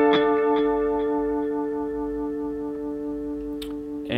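Electric guitar through a Vox AC30 amp with modulated quarter-note delay, a sustained chord shimmering as repeats echo and decay behind it, a few light picked accents near the end.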